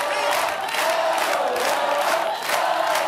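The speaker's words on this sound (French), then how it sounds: "Le public vous applaudit" A studio audience at a French TV talent show cheers and applauds loudly, a sustained wall of whoops, shouts and clapping without a break.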